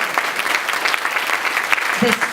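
Applause rises from the audience at a mental health summit in Sedona, Arizona, a brief, even burst of many hands clapping with a faint voice or two mixed underneath.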